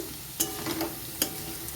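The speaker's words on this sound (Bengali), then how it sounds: "দেখো বন্ধুরা, আলুটা মোটামুটিভাবে ভাজা হয়ে গেছে" Potatoes fry in a pan with a continuous close sizzle, marked by two brief sharp stirring scrapes and lighter utensil movements between them.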